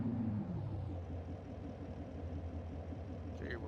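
A car in a racing video game with its exhaust turned on, a steady low engine and exhaust rumble idling close and even throughout, with a brief rising whine near the end.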